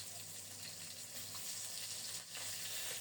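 Fish fried in a pan until red and crisp gives a faint, steady oily sizzle and hiss that runs without a break.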